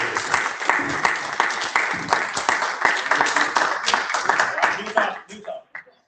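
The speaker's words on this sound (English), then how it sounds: "And give yourselves a round of applause, guys" Audience applause: many hands clapping in a dense, lively burst that fades out near the end, with some voices mixed in.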